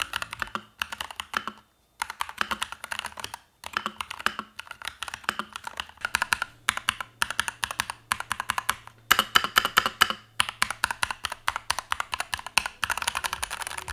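Typing on a mechanical keyboard fitted with Brown Gateron G Pro 2.0 switches: close, steady bursts of soft clacky keystrokes with brief pauses between runs.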